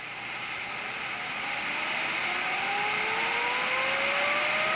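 A gas turbine engine is spun by starter air before ignition, giving a steady rushing whoosh with tones that climb slowly as it speeds up and grows gradually louder, with no voices.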